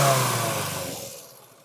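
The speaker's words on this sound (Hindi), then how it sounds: "तो गाड़ी को एक बार स्टार्ट करते हैं।" A Honda City i-VTEC engine, just repaired for a cylinder misfire, revs up briefly and then winds down smoothly. The loud engine note fades away over under two seconds.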